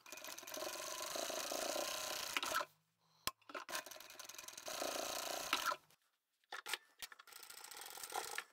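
A sewing machine double stitches the box corners of a large craft bag, running in a few close bursts broken by brief pauses and small mechanical clicks.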